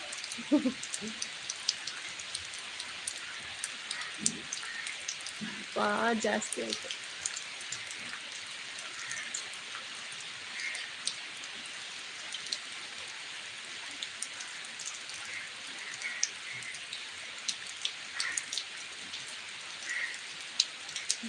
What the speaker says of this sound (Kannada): ಜೋರಾಗಿದೆ ಮಳೆ